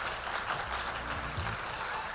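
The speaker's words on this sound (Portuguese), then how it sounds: "Uma salva de palmas para ele." An audience at a sustainability and waste-management conference panel applauds. The clapping is a steady, diffuse wash that sounds fairly distant and moderate in level and runs throughout, with faint low sounds underneath.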